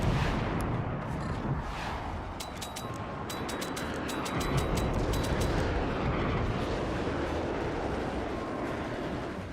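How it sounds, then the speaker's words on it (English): Howitzer firing in the naval battle game Forts, heard as dense, continuous booming and rumbling artillery with overlapping blasts and crackling debris, loud and sustained throughout with no clear gaps. "Oh, the howitzer."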